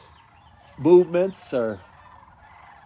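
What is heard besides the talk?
flock of geese flying by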